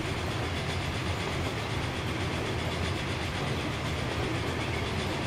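A train rolls along its tracks in the video game Transport Fever, a steady, dense rumble with a continuous rushing wash of rail noise, loud and unbroken, with no one speaking.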